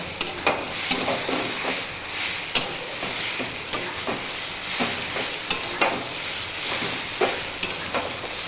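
Taro (ghot kochu) pieces frying in oil with salt and turmeric, a steady sizzle broken by regular scraping stirs of a spatula in the pan, fairly close and with no talking.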